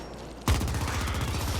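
Machine gun in the video game The Ascent bursts into rapid continuous fire after a brief near-silent pause, a loud close rattle of evenly spaced shots.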